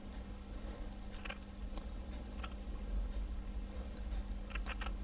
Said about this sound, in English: So with your scissors, very carefully, we just want to cut some little lines all to the same length.